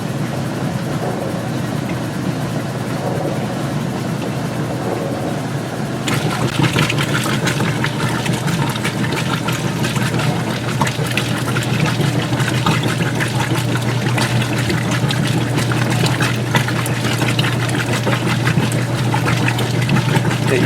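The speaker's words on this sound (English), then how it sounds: "It's cool when you see one machine agitating and the other one spinning." Continuous churning water and mechanical whirring from two washing machines, getting louder and busier partway through as one spins while the other agitates and sloshes.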